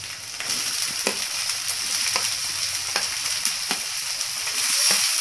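Chopped onion and tomato fry in a pan for pav bhaji, giving a continuous close sizzle broken by sharp scraping clicks of stirring every second or so.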